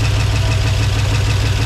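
A 1947 Chevrolet one-ton truck engine idles loud and close, a steady low rumble with an uneven, stumbling pulse from misfiring cylinders, heard alone.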